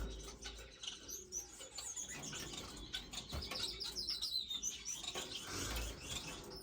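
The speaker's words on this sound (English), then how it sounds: "These are all owl finch." Owl finches in an indoor bird room, with high chirps and tweets scattered throughout alongside soft wing flapping and rustling, moderately faint and steady with no talking.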